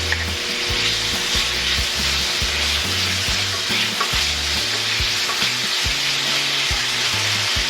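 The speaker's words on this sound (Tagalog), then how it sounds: "Dahil magmamantika po ang ating bacon." Bacon frying in a little olive oil for carbonara, a loud, close, steady sizzle with repeated scraping and stirring strokes of a utensil against the pan, no voices.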